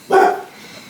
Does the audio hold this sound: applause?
no